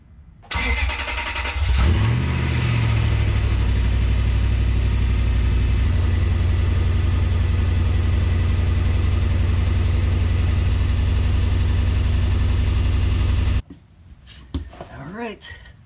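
A car engine cranks and catches, then settles into a loud, steady idle close by for about eleven seconds before shutting off, followed by brief faint clatter.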